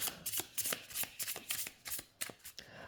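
Oracle cards being shuffled by hand, a close run of quick riffling, slapping bursts in an irregular rhythm, alone with no talk.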